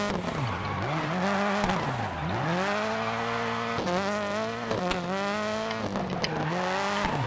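A Subaru rally car in Dirt Rally 2.0 fishtails with its engine revving and tires squealing, the pitch swooping up and down through repeated slides, loud and continuous with no gaps.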